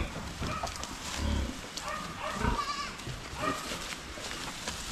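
Goats bleat on a grassy patch, several loud, wavering calls from nearby breaking over a constant outdoor noise.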